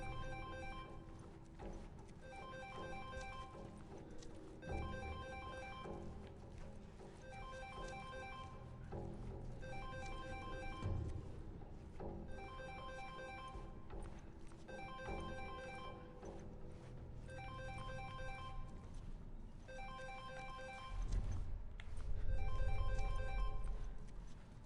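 In The Last of Us Remastered, a telephone rings again and again in evenly spaced electronic bursts, with brief gaps between rings, over a steady low ambient drone that swells near the end.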